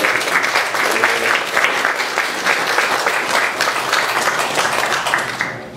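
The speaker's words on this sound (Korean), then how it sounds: "우리 모든 임원 목사님은 잠깐 일어나시면 우리 뜨겁게 박수로 한번 격려해 드리면 좋겠습니다." Congregation at a New Jersey Baptist revival meeting applauding warmly for the officer pastors, a loud sustained burst of many hands clapping that carries on evenly before fading at the very end.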